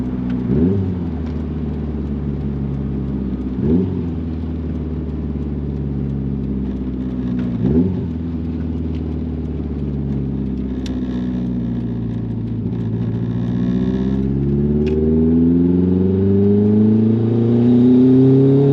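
Nissan GTI-R engine revved at half throttle, three quick blips each settling back, then a long smooth climb in pitch, close and loud with no talking.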